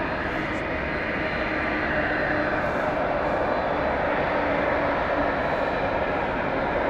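Close-up roar of an Airbus A380's jet engines, a loud, steady broadband rumble and hiss holding throughout with no break.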